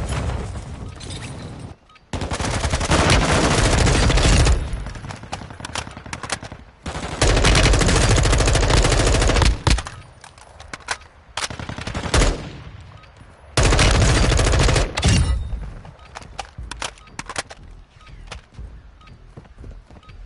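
M4 rifle fire in a tactical shooter video game training area: several loud bursts of rapid automatic shots, separated by quieter gaps with faint footsteps and movement.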